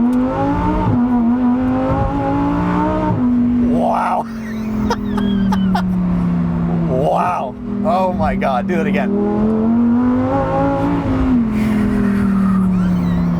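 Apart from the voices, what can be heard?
Lamborghini Huracan STO V10 engine revving, tires struggling for traction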